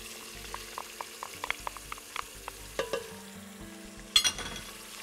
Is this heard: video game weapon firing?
no